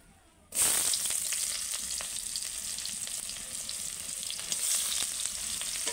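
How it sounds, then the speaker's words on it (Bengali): Chopped onions hit hot oil with a sudden loud hiss after a short quiet moment, then fry in a steady bright sizzle at close range, with a few faint stirring scrapes and a brief swell near the end. "পেঁয়াজটা ভালো করে ভাজা ভাজা করে নেব।"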